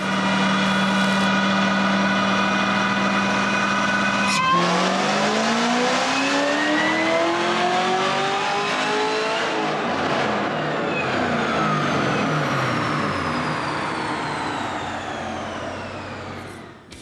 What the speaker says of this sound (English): the MPI seem to make the best blower sound, or at least enhance the sound of the blower